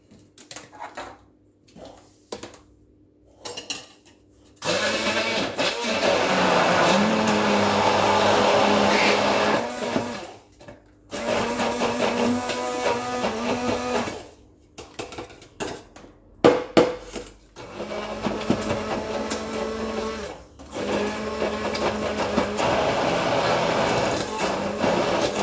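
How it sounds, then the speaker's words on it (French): A blender mixes fresh cream cheese for a pepper and chorizo twists filling, running loudly in several bursts of a few seconds each, separated by short pauses. "On va mixer et on va voir ce que ça donne en fonction de la texture."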